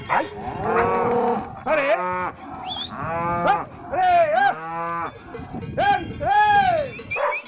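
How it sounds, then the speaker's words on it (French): Cows lowing loudly and repeatedly during calf weaning at a village farm, long drawn-out bellows overlapping from several animals close by, with a man calling out briefly between them. "les vaches vont pleurer longtemps"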